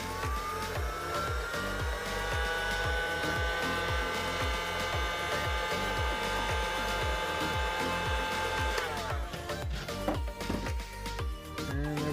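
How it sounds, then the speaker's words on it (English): A heat gun shrinks heat shrink tubing over wire joints, blowing with a loud, continuous whirring hiss close by, overlaid by a rhythmic mechanical pulsing until the gun cuts off and clunks at the end. "Grab our heat gun, shrink these up."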